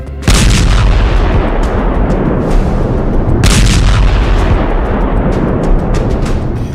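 A military explosion as the Israeli army destroys a Hezbollah tunnel: loud, sustained deep rumbling blasts with two sharp bursts near the start and midway, continuing without a break and no voices.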